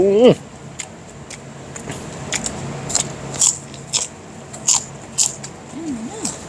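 Grilled seafood being eaten outdoors with dipping sauces, a series of crisp bites and crunchy chews spaced through the clip, with a voice heard briefly at the start and end.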